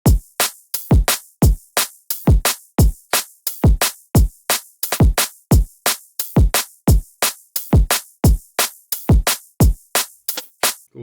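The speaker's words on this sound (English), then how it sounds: "So let's listen to the drum kit all together now, along with the ghost snares that I've added here." A drum and bass drum kit pattern with crisp hi-hats, punchy kicks and snares plus soft ghost snare hits, playing a fast, tight, continuous groove loudly with no voices.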